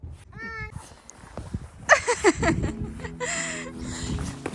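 A cat meows several times up close, short rising and falling calls amid rustling and faint background noise.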